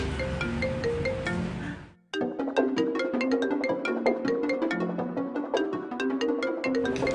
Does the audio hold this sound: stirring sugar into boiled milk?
no